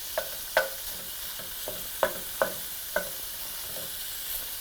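Broken-up sausage meat frying in a pan, a low constant sizzle punctuated by seven or eight sharp spatula taps and scrapes at uneven intervals, close up, with no speech.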